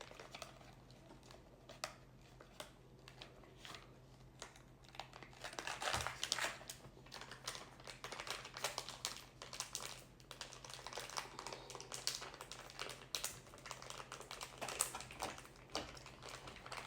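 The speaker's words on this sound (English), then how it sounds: "just hearing all that noise of these bags" Continuous crinkling and rustling of plastic breast-milk storage bags, with irregular crackles and sharper bursts throughout, close by and moderately loud, with no talking.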